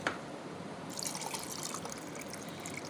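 Cold water poured into homemade plum juice, a soft steady liquid trickle and splash close by, quiet and unbroken, with no talking.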